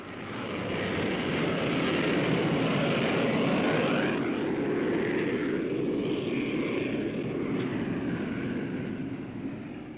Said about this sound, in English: Now the two Phantoms turn on a starring performance less than 100 feet above the runway.